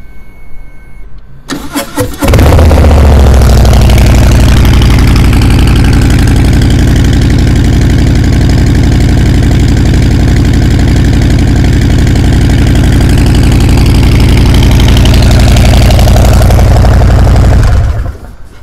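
A Harley-Davidson Breakout motorcycle cranks and fires up, then settles into a loud, steady, deep idle that holds for about fifteen seconds before cutting off.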